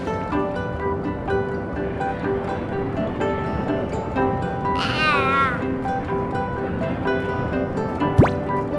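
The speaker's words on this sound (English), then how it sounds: "Dolphins like to live in groups and play in the waves together." A cartoon dolphin in a children's underwater exploration game gives warbling, whistly chirps over steady tonal game music, followed by a quick rising whistle near the end.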